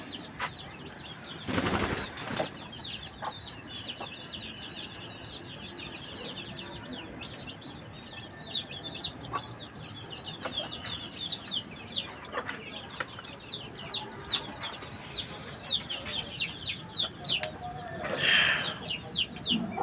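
Chickens on a farm at night, clucking and chattering continuously, with occasional wing flaps and scuffles and a busier burst of calls near the end.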